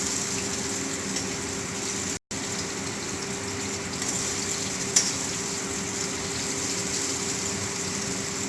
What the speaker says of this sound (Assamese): এইটো অলপ গোল্ডেন হোৱালে আমি ফ্ৰাই কৰিম